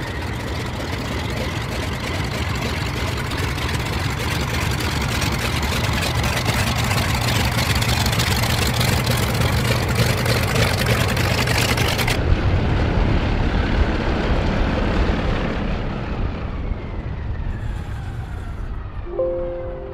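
A Yak-11 warbird's piston engine drones steadily and loudly through a fast tailwheel-first touchdown at an air race, the low rumble continuous throughout and thinning in its upper range partway through as the aircraft rolls out.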